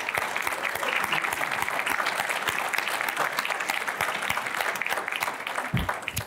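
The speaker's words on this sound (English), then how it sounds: "Let's give Tim a round of applause." Audience applause fills the room at a community foundation's annual meeting, brisk, dense clapping from a sizable crowd sustained throughout, with a brief thump near the end.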